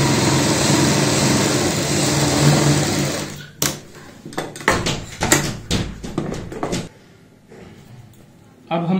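Sewing machine stitching a half-inch seam on a handmade travel bag, a steady dense whir for several seconds that stops, followed by irregular handling knocks and rustles of the fabric.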